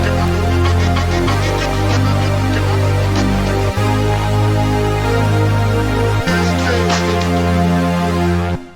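Juno synth chords, a simple 1-3-5 triad, play over a deep sustained bass line that shifts pitch every few seconds. Loud and dense, with no voices.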